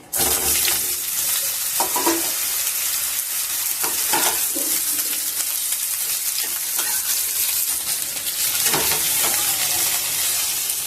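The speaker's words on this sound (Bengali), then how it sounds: "তেলের ওপরে ঝিঙেটা দিয়ে অল্প কিছুক্ষণ নাড়াচাড়া করে নিলাম।" Ridge gourd sizzles steadily in hot oil over a nigella seed tempering for a Bengali vegetarian curry, with repeated scraping stirs breaking through the continuous frying hiss.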